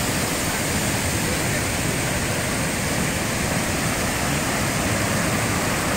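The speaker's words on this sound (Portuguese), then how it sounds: "a queda d'água é aqui, o panelão ali embaixo de água" Salto do Rio Pardinho, a waterfall on the Rio Pardinho in Rio Grande do Sul, Brazil, cascades over rocks into a plunge pool with a loud, steady, broadband roar that stays constant throughout, close and unbroken.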